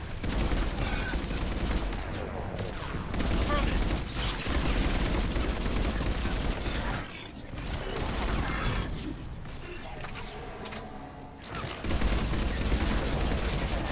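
Gunfire in the video game Mass Effect 3, rapid sustained bursts of weapon shots with mechanical clatter, loud and dense with short pauses between volleys.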